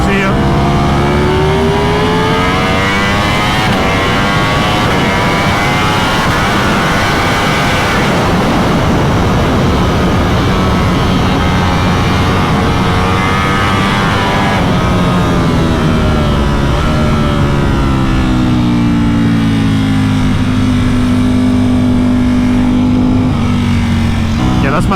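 A Ducati motorcycle ridden fast at a private track day, its engine screaming loud and close, rising and falling in pitch through continuous hard acceleration and downshifts.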